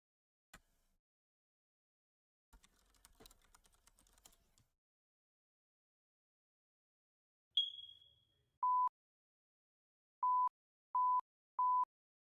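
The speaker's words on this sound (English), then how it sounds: "Where's my beep button?" Four short electronic beeps from a soundboard button, one alone and then three in quick even succession, clean and isolated after some faint clicking and keyboard tapping.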